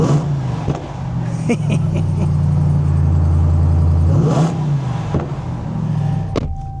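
A big American pickup engine revs hard nearby, its deep growl rising and falling in several surges, with a few sharp clatters between throttle bursts.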